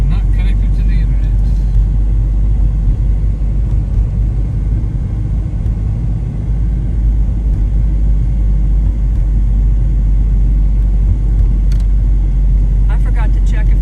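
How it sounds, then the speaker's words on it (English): Bumpy ride inside a car heading into Gatlinburg: a loud, constant low road rumble fills the cabin throughout, with a few faint clicks and rattles near the start and end. "the car is a little bit too bumpy"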